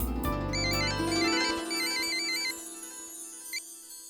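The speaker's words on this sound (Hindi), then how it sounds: "घंटी जा रही है।" A telephone ringtone plays a repeating electronic warble close by and loud, in a domestic family-drama scene, with a low music bed under the first second or so and no talk.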